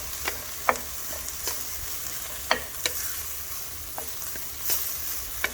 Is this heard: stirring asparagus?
yes